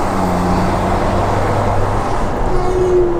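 Cars accelerating in a street race involving an Audi R8 supercar, a loud continuous engine roar with rising tonal drones, close and dense, no talk.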